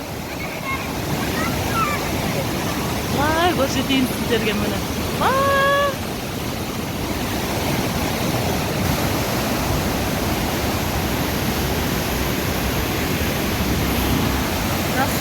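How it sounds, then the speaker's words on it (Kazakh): A strong mountain stream rushes without break, a loud broadband roar of fast water filling the scene while someone talks over it at first. "Судың ағысы қатты болып жатыр мұны."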